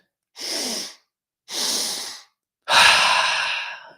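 Three deep, audible breaths during a guided breathwork exercise: two shorter airy inhales or exhales followed by a longer, louder, fuller breath, close and clear with no talking.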